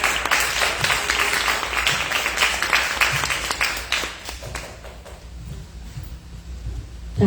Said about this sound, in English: Let's give a big round of applause to Katie.